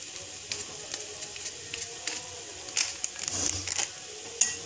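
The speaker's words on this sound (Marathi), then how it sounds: "छान आपण हे परतून घेऊया सगळं।" Capsicum and gram flour (besan) being sautéed and stirred in a pan, with a soft steady sizzle and scattered scraping clicks of a spatula, close and moderately quiet.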